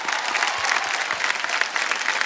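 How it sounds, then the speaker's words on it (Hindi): A studio audience at a TV quiz show claps steadily, a dense, lively round of applause that fills the hall with no talk over it. "तालियां बज जाए इनके लिए एक बार फिर।"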